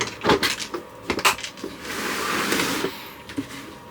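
A newly hinged wooden door in a camper van is swung open and shut. Several close, hollow wooden knocks and thumps are separated by a short rushing scrape, with no talking.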